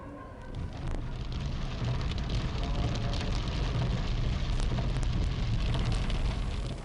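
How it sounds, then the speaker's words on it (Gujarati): Heavy rain pours down around Akbarnagar Circle in New Wadaj, Ahmedabad, a continuous dense hiss that swells slightly after the start and stays even and moderately faint throughout, with no voices. "અકબરનગર સર્કલ વિસ્તારમાં ધોધમાર વરસાદ વરસ્યો"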